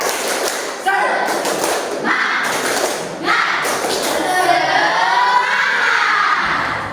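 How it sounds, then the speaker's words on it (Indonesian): Indonesian English-class pupils perform the rhythmic tepuk semangat spirit clap chant, with loud grouped claps and thumps in bursts mixed with children shouting the chant together and a fading vocal tail. "kita tepuk semangat dulu sekali lagi biar kita lebih semangat lagi ya untuk mengakhiri pelajaran kita hari ini"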